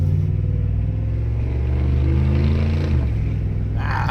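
A Dodge truck running on diesel idles with a deep, steady rumble close by, its low throbbing note holding firm and shifting slightly in pitch, with a brief rise in the higher tones at the end.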